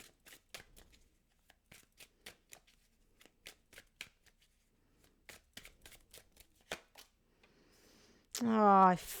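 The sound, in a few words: tarot cards being shuffled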